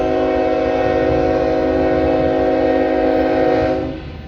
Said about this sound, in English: Northbound, I'm thinking it's going to be unit train to grain.